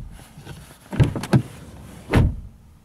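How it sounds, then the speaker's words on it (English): A 2015 Mercedes-Benz C-Class W205 car door swings and shuts, with a couple of quick mechanical clicks followed by a solid, muffled thud, heard close up with no talking. "and the door sounds"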